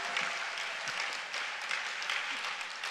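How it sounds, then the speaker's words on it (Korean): Church congregation applauding at a Korean fasting revival worship service, a steady, fairly loud wash of many hands clapping, continuous and close. "뜨거운 박수로 한번 격려해 주셨으면 좋겠습니다."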